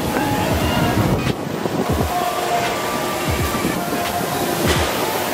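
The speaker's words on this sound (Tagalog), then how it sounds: "Lakas ng hangin!" Strong wind buffets the microphone beside the Grand Canal in Venice, roaring in loud gusts over faint water and background city noise, with several brief thumps from the blasts.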